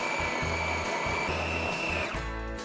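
Food processor grinding peanuts into peanut butter, a loud continuous motor whine with a rough churning rattle, winding down near the end.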